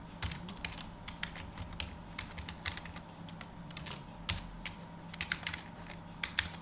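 A computer keyboard being typed on nearby while entering code in R, with irregular bursts of light key clicks and brief pauses over a low background hum.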